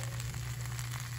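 Hard vegetables and cabbage stir-fry in a hot pan, giving a steady, close sizzle with a constant hum underneath and no talking.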